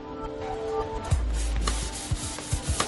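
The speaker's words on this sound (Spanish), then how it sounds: "lijamos todos los bordes y alisamos la superficie para poder pintarla" Steady sanding rubs against a hard Koenigsegg Agera supercar chassis, smoothing its edges and surface before painting, in a continuous raspy hiss, with occasional low thumps and tool noise in the background.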